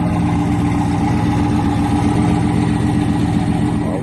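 A 700+ hp turbocharged Camaro engine runs steadily nearby, a loud, throbbing low rumble with a continuous idle and slight rev swells throughout.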